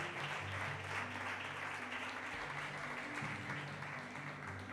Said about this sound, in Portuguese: Dê mais umas fortes salvas de palmas ao Senhor